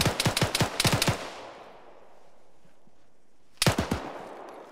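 Two rapid bursts of automatic gunfire in ArmA 3, a tight volley of about eight close, loud shots, a stretch of fading echo, then a second burst of several shots near the end, with no talk.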